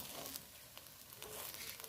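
Omelette of beaten eggs frying in a pan after being flipped, a soft steady sizzle with faint crackle running evenly throughout, fairly quiet and with no voices.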